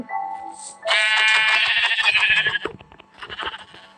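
A Minecraft sheep lets out a loud, close, drawn-out bleat, then a second shorter bleat after a brief gap, with no speech over them.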